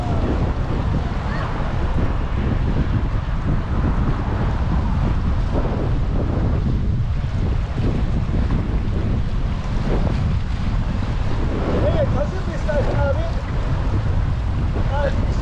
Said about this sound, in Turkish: İnanılmaz bir rüzgar var. Ses sizlere kadar geliyordur.